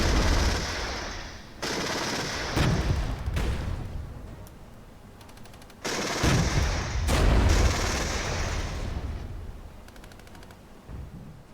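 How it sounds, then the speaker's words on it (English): Gvozdika self-propelled guns open fire on enemies in the war game Regiments, a loud barrage of overlapping rapid gunshots and heavy booms in several bursts, with short quieter gaps between volleys. "I'll order Gvozdikas to fire on them so we can weaken them"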